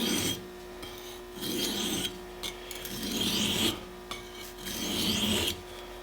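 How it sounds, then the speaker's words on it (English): Knife blade made from reclaimed sawmill steel scraped across a sharpening stone at a finer grit, steady close rasping strokes back and forth in a repeating rhythm with brief gaps. "So let's flip the stone over and we'll work the edge down to a finer grit here"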